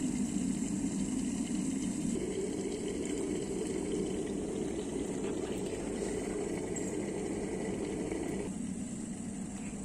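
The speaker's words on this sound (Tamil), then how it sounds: "தண்ணி நல்லா கொதிச்சு வந்துருச்சு." Water rolling at a full boil in a pot for dry ginger and coriander tea gives a steady, dense bubbling rush that stays close and even for the whole stretch, with no talking.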